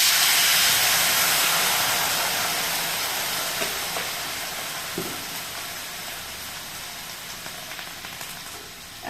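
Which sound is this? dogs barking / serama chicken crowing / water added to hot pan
water added to hot pan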